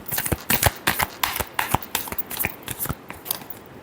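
Tarot cards shuffled by hand in quick rhythmic bursts, a dozen or so crisp riffling flutters close up, each with a sharp papery attack, with no talking.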